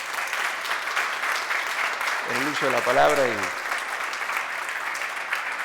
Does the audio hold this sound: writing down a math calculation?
no